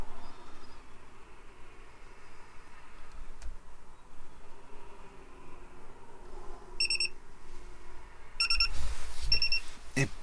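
Several short, high electronic beeps from a camper van tilt gauge ring out in quick bursts near the end, after a stretch of quiet clicks and faint handling noise.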